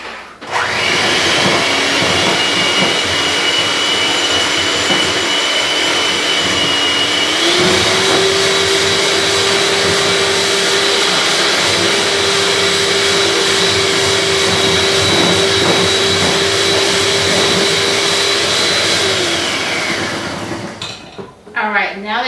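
An electric mixer beating red velvet cake batter in a bowl, a loud, close, continuous motor whine that shifts pitch once partway through and stops near the end, with some scraping against the bowl.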